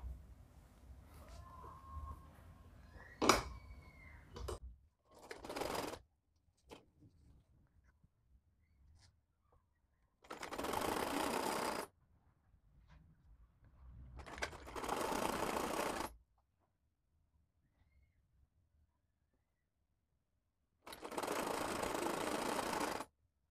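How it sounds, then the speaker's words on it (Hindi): A sewing machine stitches together two fabric layers of a child's party-wear frock, running in three separate loud whirring bursts of a few seconds each, with handling noise and quiet gaps in between. "दो लेयर हमने उठाई पलट लेंगे इसको और अब इनको एक साथ सिल देंगे"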